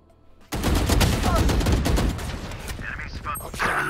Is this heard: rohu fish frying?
no